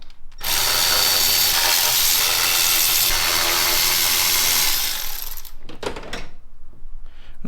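A power drill or impact driver whirs steadily for several seconds, close and loud, removing 8mm throttle body bolts from a car's plastic intake manifold, then stops into a few clanks and handling noises.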